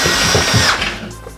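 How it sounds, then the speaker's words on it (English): A long power drill bit boring through a wall whirs loudly for about a second, its pitch dropping as it bites in, then cuts off. "So I got the longest drill that I have."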